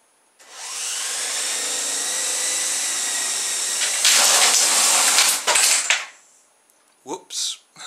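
Rotors of a 35MHz RC helicopter spin up to a steady high whir held for several seconds, then a harsh clattering burst as the blades strike something, followed by a few short knocks.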